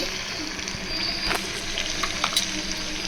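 Crab fry sizzles steadily in a pan as it is stirred, with a constant frying hiss and a few scraping knocks from the spoon.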